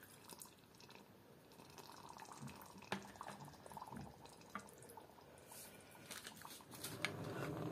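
Water is poured into anhydrous sodium acetate in a container while making a reusable chemical heat pack, giving faint trickling and dripping splashes with small clinks, quiet and close.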